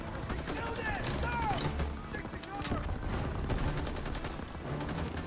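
Rapid gunfire in a World War II shooter game, Call of Duty WW2, with repeated shots and bursts under continuous voices and game chatter, fairly even in loudness throughout.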